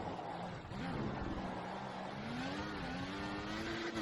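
An F1 race car in F1 2014 drops through the gears under heavy braking, its engine pitch sliding down and then climbing again in a continuous, moderately quiet whine.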